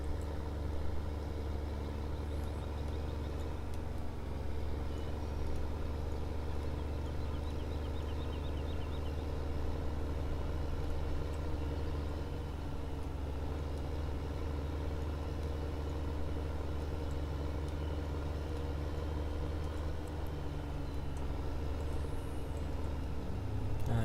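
A small Fortis tractor engine in Farming Simulator 2015 drones steadily and loudly throughout, a constant low rumble with no talk over it.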